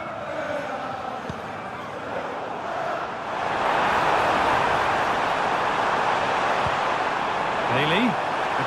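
Stadium crowd at an Aston Villa vs Bayern Munich Champions League football match, a steady broad roar that swells louder partway through and holds, with a commentator talking over it.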